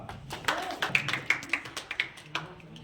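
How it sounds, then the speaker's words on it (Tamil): An audience at a school and college student prize ceremony gives a short burst of scattered, moderately close hand clapping with uneven rhythm. "நல்லா கைத்தட்டு, மாணவர்களை நல்ல ஊக்குவிப்பாக கைத்தட்டு"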